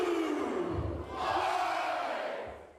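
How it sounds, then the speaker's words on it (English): A large Big Blue crowd yelling and cheering at a football pep rally, a loud sustained roar that swells, dips briefly and rises again, with no clear speech. "A Big Blue crowd showed up at the pep rally."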